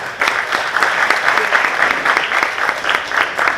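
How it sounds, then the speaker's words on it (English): Audience at an annual iftar dinner applauding the media, a dense, steady round of clapping that starts sharply and continues evenly to the end, close and loud, with no speech over it. "Please give them a round of applause."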